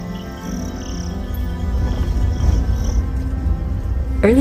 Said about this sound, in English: we arrived at our lodge near the lake and fell asleep to the sound of the crickets.